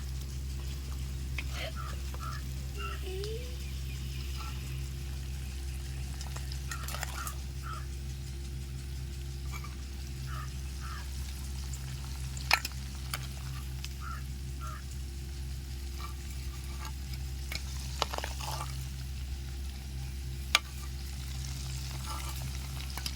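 Chicken frying in a pan for ghee podi chicken, a faint steady sizzle with occasional light clinks and scrapes of stirring, and a soft voice speaking at times.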